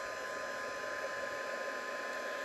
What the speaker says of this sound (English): then I'll just bring my heat gun in